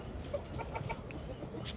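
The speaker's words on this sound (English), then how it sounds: "stupid chicken" A chicken clucks in a few soft, short bursts, faint and somewhat distant over a steady low background rumble, with no talking.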